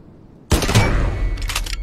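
Sudden burst of rapid gunfire in the shooter game Lost Light, loud and close, starting abruptly after a quiet moment and continuing as a dense volley.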